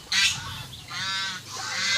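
Brown Dekalb chickens in a flock of about fifty give short, nasal calls in two or three bursts, close and fairly loud, with no talk over them.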